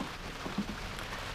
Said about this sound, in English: It's been raining for probably the last couple of days